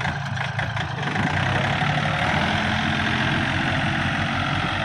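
A 39 hp Yanmar tractor engine runs at a steady idle with a low diesel rumble, close and continuous, with no voices.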